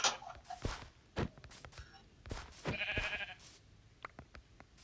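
Minecraft sheep give a few short bleats, the clearest near three seconds. They mix with blocky footsteps and thuds in a sparse, close-up game scene with no talking.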